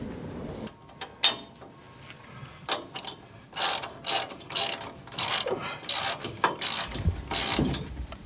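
Ratchet wrench tightening bolts on heavy 511 front and rear tractor tie-down brackets: repeated bursts of close, loud clicking strokes with brief pauses between, fairly steady after an opening few clicks.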